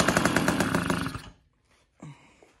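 A small Morini Polini two-stroke engine on a powered pacer, freshly rebuilt, buzzes with rapid rough firing pulses and then abruptly cuts out to near silence, followed by a short faint noise.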